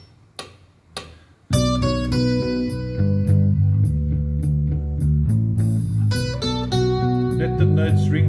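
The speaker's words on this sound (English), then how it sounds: "nice piano intro which we can interpret on guitar like this." Electric guitar playing the piano intro of a song over a backing track, with a couple of soft picked notes before sustained ringing chords and melody notes enter and continue steadily.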